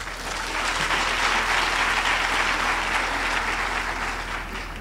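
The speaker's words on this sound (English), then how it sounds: "maybe a round of applause for the choir" Steady applause from a graduation ceremony audience honouring the choir, broad and sustained at an even level for nearly five seconds with no voices on top.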